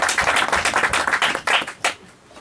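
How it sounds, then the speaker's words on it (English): Audience claps for a speaker at a talk on aging research, a brief burst of clapping that thins out and fades within a couple of seconds. "Can we give you an applause?"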